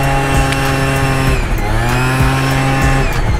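A 50cc scooter engine buzzes loudly and continuously up close, its pitch dipping and rising again as it revs, with no talking.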